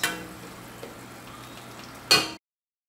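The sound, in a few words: greens frying in a pan, stirred with tongs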